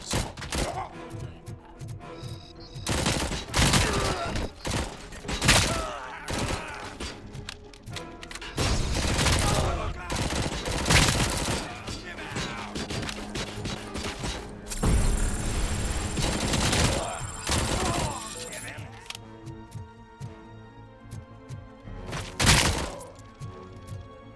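Gunfire in the shooter video game RoboCop: Rogue City, loud repeated bursts and single heavy shots with booms and thuds, irregular spacing with brief pauses and one sharp final crack.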